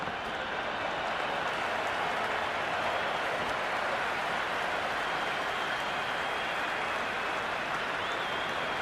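Steady, dense crowd roar from a stadium full of cricket fans in the game Cricket 26, a continuous wash of cheering and murmur that holds at an even, loud level throughout without breaks.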